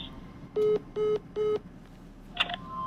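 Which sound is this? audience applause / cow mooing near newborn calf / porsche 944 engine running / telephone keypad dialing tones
telephone keypad dialing tones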